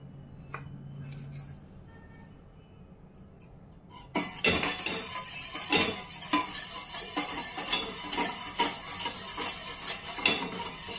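Sugar is stirred into carrot juice in a pan on the stove. After a quiet start, a spoon scrapes and clinks against the metal in a quick, repeated rhythm, close and clear.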